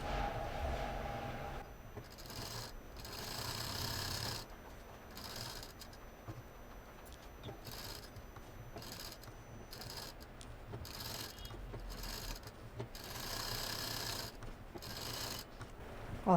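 Electric sewing machine stitching the seams of a handmade Doraemon cartoon pillow, running in steady bursts of mechanical whirring with short pauses between runs, close and fairly loud, no talking.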